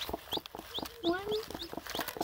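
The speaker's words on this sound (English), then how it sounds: "Yes, Mama Hen." A broody Cochin hen clucks nearby in a quick run of soft, repeated clucks with one slightly longer, drawn-out note in the middle.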